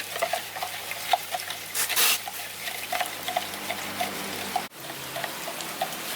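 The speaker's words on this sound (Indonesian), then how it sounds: "kita aduk dulu. Dilarutkan garamnya 10 sendok untuk 50 liter." Sea salt is stirred into a large container of about 50 liters of water, giving soft repeated swishing and light clinking strokes with trickling water throughout, close and steady.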